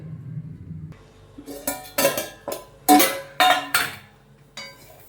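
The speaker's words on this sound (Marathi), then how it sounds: "शिजण्यासाठी आपण त्याच्यावर छान झाकण ठेवूया" A metal lid set onto a pot of dal cooking for Pune-style khirapat prasad, giving a series of sharp clanks and clinks that rise in loudness, close by with no talk.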